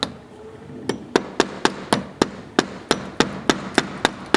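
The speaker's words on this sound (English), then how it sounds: "I've got a cement hammer right here, and I'm going to take that" A cement hammer strikes stucco beside a window frame fin during old window removal, about a dozen sharp, evenly spaced blows roughly every quarter second, close and loud with no talking.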